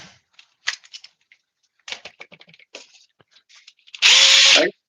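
A Dewalt power drill driving screws into hardwood gives one loud, steady whirring burst near the end, after a run of scattered light clicks and handling noises.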